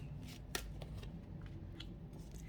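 Tarot cards drawn from a deck during a reading, quick papery slides and soft flicks in a few brief bursts over a faint steady background.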